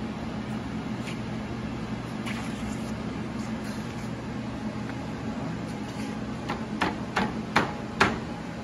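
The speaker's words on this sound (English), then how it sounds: "Using the fist hammer." A fist hammer taps a screen frame into a storm window, starting with a few scattered knocks and then a quicker run of sharp, close blows toward the end over steady background hum.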